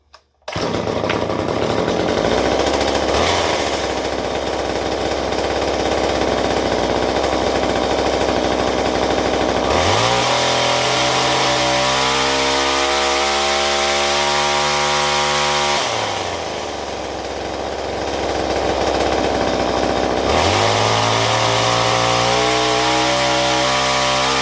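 An old chainsaw starts and runs loud and close, its two-stroke engine idling, then revving up twice with rising pitch before settling back, continuous with no pauses.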